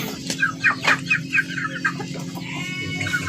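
Farm chickens kept by a poultry raiser cluck in a series of quick, fairly close bursts during the first second and a half, then quieter scattered clucks over a steady low background hum.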